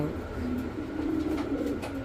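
A breeding pair of pigeons at a pigeon sale centre gives a sustained, droning coo, steady and fairly close against a busy background murmur.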